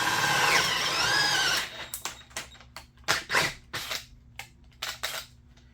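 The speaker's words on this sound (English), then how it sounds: "I drilled a bunch of them out" Hole saw on a drill cutting holes through a wooden board: a loud whining drill run at the start, then a series of short bursts and thumps as the saw bites and the drill stops and restarts.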